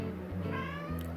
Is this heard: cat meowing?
yes